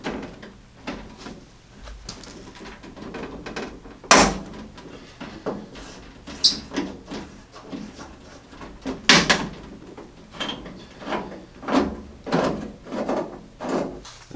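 Phillips head bolts being worked loose from the door of a Jeep J10 pickup, giving a series of short, close mechanical clicks and knocks spaced irregularly with a few louder thumps, no talking.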